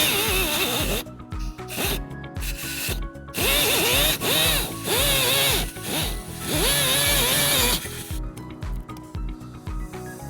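A power tool cuts into the plastic rear bumper of a 2021 Tesla Model S, sounding in loud, close bursts of whining, pitch-shifting cutting between short pauses.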